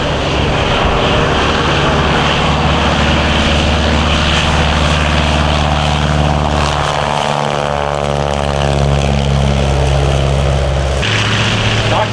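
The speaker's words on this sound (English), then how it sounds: "two bombing airplanes about to go aloft" Loud, steady droning of vintage biplane engines taking off at Rhinebeck Aerodrome fills the whole stretch, with shifting pitch as the planes rev, then a sudden change near the end.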